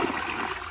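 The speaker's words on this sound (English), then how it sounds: "Okay, here is another flush." A 2018 American Standard Townsend Vormax toilet flushes with a steady, close rush of water, a brief burst of swirling noise with nothing else over it.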